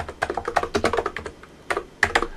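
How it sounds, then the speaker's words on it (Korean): Quick keystrokes on a computer keyboard as a command is typed, a run of close, crisp taps in uneven bursts with a short pause before a final few keys. "리스트 볼륨을 입력하고 엔터를 누르면"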